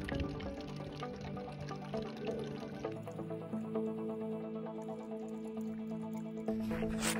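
A water bag filling at a wilderness water source in the Santa Fe National Forest, steady trickle and drip of water close by, with gurgling tones shifting as the bag fills.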